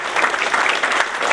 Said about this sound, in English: So let's join me in giving him a warm round of applause.